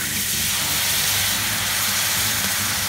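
Fish stock poured into a hot flour roux sizzles in a steady, loud, continuous hiss that fills the whole moment without pause.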